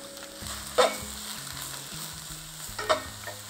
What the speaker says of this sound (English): Once it's nice and hot, let's get our mushrooms in there.